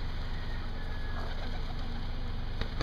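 Pigeons coo softly at a farmyard with chickens and peacocks, the calls sitting low in a steady background drone, with a brief flutter near the end and no speech.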